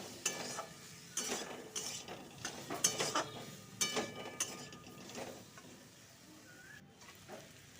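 Ghugni spice paste with tomato, ginger, chilli, coriander-cumin and dried red chilli paste being sautéed, quiet sizzling broken by repeated spoon scrapes and taps against the pan, fading to a softer hiss.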